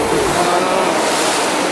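Ocean waves surge and wash in a steady, loud roar of surf, heard close by during a fishing outing, with wind buffeting the microphone.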